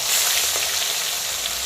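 Parshe fish coated in salt and turmeric fry in hot oil, giving a loud, close, steady sizzle for a brief moment.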